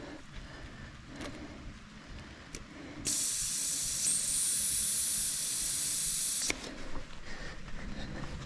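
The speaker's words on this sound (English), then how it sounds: "I'm just going to drop some pressure out of the tyres." Air hisses sharply from a mountain bike tyre valve in one sustained burst of about three seconds, close and loud, set against quiet outdoor background with faint clicks before and after.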